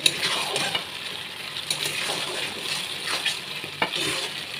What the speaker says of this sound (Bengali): এরপরে দেবো এই কোপ্তাগুলো দিয়ে দেবো। দিয়ে নাড়াচাড়া করে